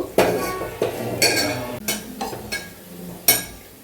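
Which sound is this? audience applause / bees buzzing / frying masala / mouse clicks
frying masala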